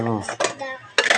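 Heavy, breakable plates clatter and clink together during dishwashing, two sharp bursts of ceramic knocking after a brief opening hum, close and fairly loud.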